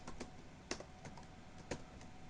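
Typing on a computer keyboard to enter a search in the Metasploit console, a handful of soft key taps spaced irregularly over a faint steady hiss.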